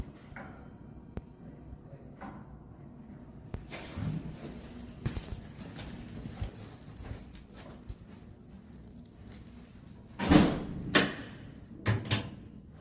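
A household door, its sagging fixed by adjusting the hinges, moves quietly under faint room rustle, then gives a few short, sharper knocks and clunks close by near the end.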